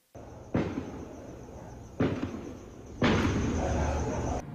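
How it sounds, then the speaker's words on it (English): Three sharp bangs recorded from inside a garage in Nanakuli, reported as gunshots, each a loud broadband crack followed by a lingering rumbling decay, spaced unevenly over a few seconds against a faint steady high-pitched hum. "She recorded this video several days ago from her garage of what she says are gunshots."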